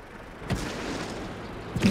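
Tank cannon fire in World of Tanks: two booming shots about a second apart, each a short sharp blast over a low, steady battle rumble.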